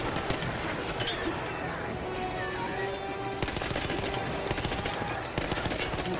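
Dense, continuous video game gunfire in Battlefield 1, rapid machine gun bursts and rattling shots layered over one another without a break, loud and close throughout the battle.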